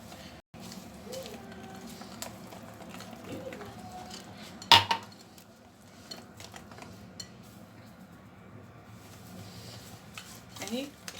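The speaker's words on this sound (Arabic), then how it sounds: "هنا غنبداو نضيفو السميد بشويه بشويه ونحركو مع استمرار التحريك دائما" Semolina is gradually stirred into basbousa batter in a bowl, with soft, muffled scraping and a single sharp metallic clank of the utensil against the bowl partway through, all close by and fairly quiet.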